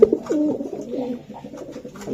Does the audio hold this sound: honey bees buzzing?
no